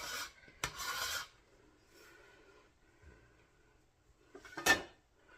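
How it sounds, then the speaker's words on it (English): A small dough scraper rasping across a floured work surface while making chicken-and-dumplings dough: two short, close, dry scraping strokes separated by a quiet pause. "Let me get my little scraper here."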